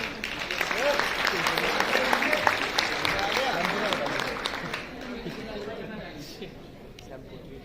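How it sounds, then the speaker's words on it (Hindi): Meeting audience at a Modicare home business gathering breaks into sustained applause, a dense patter of many hands mixed with murmured chatter, steady for several seconds before easing slightly toward the end. "एक बार जोरदार ताली सर के लिए बजा दो।"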